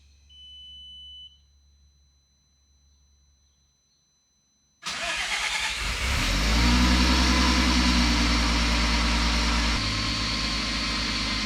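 A Volkswagen VR6 engine fitted in a mid-engine Honda Civic sits quiet with faint beeps, then cranks, catches and settles into a loud, steady running rumble close by.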